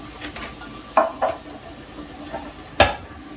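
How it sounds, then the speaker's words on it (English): A spoon stirring canned cream corn and corn kernels together in a pot makes a few soft, wet scrapes, then a sharper knock against the rim near the end, heard close and quiet. "I'm just going to stir this all together."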